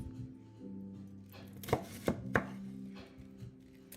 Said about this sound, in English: When you want to chop it in half, you cut it, the root itself, in half.